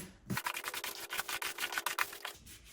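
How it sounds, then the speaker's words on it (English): A smoother is worked over pre-pasted wallpaper on a wall from top to bottom, giving a quick series of close, rhythmic scraping rubs that run for about two seconds. "I'm using this as a smoother. You work from top to bottom."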